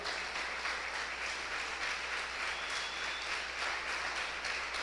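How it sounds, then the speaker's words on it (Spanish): A church congregation applauds steadily for the whole stretch, a loud, dense, even wash of many hands clapping with no voices rising above it. "dale un fuerte aplauso al Rey"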